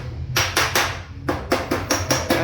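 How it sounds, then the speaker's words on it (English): Panel-beating hammer striking a dented car body panel backed by a dolly, a run of sharp metallic blows in two quick bursts, close and loud with no talk. "I start hammering it with the panel beating hammer from outside"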